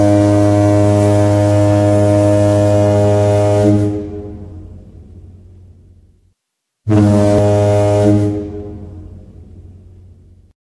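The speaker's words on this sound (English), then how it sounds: "Ferry." A ferry horn gives two long, deep, loud blasts, each holding steady for several seconds and then ringing away, with a short silence between them.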